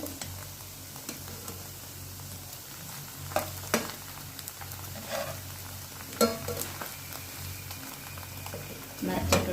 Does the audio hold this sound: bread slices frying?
yes